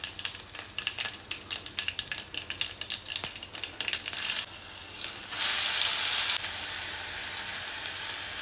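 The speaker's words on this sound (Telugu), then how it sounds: "గోల్డెన్ బ్రౌన్ వచ్చేటట్టు వేయించుకోవాలి. చిన్న మంట మీద వేయించుకోవాలి." Onion paste frying in ghee with mustard seeds over a low flame for aloo paneer matar kurma, close irregular crackling and popping, then a louder steady sizzling surge before settling into a softer hiss.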